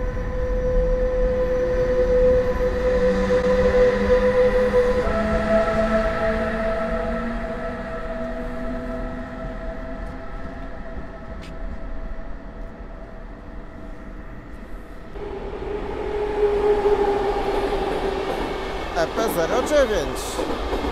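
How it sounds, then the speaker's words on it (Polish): Radomiak accelerated passenger train departing Warszawa Powiśle station, a steady rumble with sustained tonal whine and horn-like drones, rising again near the end, with a voice speaking over it. "Idziemy na krótki spacer z pociągiem osobowym przyspieszonym Radomiak z Warszawy Wschodniej"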